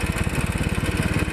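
A Royal Enfield 500cc single-cylinder motorcycle engine thumps in a rapid, even pulse while engine braking on a descent, loud and close with a steady throbbing rhythm.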